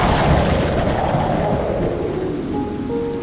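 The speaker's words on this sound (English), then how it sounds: "Thunder rumbled." A thunderstorm with a deep rumble of thunder rolling under heavy rain, loud and close at first, then easing off.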